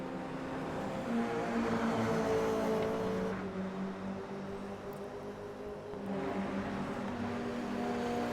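Toyota GR86 race cars in a one-make cup race push through a corner on a road course, their engines droning and revving loud and steady, rising as one car moves past another.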